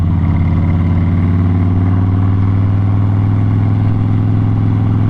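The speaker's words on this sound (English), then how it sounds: "so you can hear the bike" A sport motorcycle engine running at a steady idle, a loud, close, continuous low rumble with an even throb and no change in pitch, no voices.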